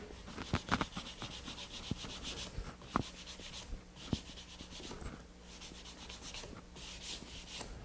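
Curly maple is hand sanded with 220 grit sandpaper, giving soft rhythmic rubbing and scratching strokes in short bursts, close and fairly quiet, with occasional light knocks between passes.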